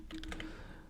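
A few quick keystrokes on a computer keyboard, soft and close, clustered in a short burst and then fading to quiet room tone.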